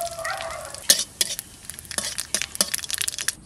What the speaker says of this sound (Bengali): সামান্য তেল দিয়ে দুটো জিরে ভেজে উঠে রাখবো।